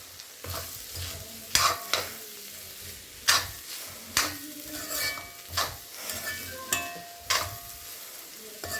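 Ivy gourd upperi with grated coconut and green chili being sautéed in a pan, a steady sizzle broken by repeated sharp scrapes and clinks of a spoon stirring against the metal, close and fairly loud, with no talking.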